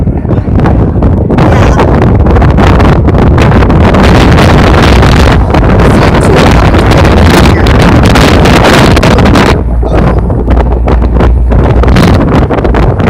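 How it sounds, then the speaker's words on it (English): Strong wind batters the microphone during a tornado chase, a loud, continuous roaring rush that fills the whole stretch with only brief dips in intensity. "Wind pulling from behind us."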